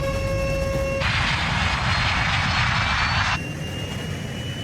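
The jet engines of an airliner at full throttle run as a loud, continuous roar with a strong rushing surge in the middle, heard close from inside the aircraft.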